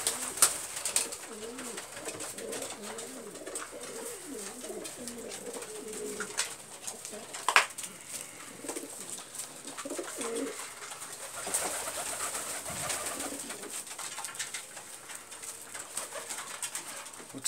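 Pigeons coo softly and repeatedly at close range, with low throaty calls in a fairly quiet setting and a few light knocks and rustles.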